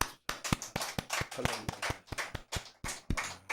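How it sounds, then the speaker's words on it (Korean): A church congregation claps in rhythm during a Sunday morning service, a series of sharp, evenly spaced claps, fairly close and loud, with no talking over them. "박수 한번 주세요"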